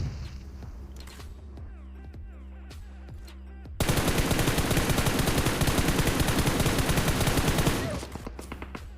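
Gunfire in the battle-royale game PUBG Mobile: scattered single shots and short bursts first, then from about four seconds a loud, dense sustained automatic burst lasting roughly four seconds before tapering off, with no talk.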